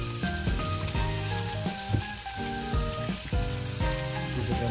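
Seasoned steak pieces sizzle and get stirred in a hot pan for burritos, a steady loud frying hiss with scraping stirs throughout, and tonal music playing alongside.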